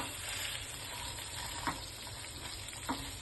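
A Frankie roll crisps on a hot pan over low flame, giving a steady quiet sizzle with two soft thumps as it is turned, and no voices.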